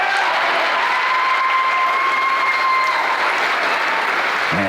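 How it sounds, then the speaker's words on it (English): An audience breaks into sustained applause, a thick, steady roar of clapping with a faint tonal hum running beneath it, unbroken throughout. "Man, listen to that applause."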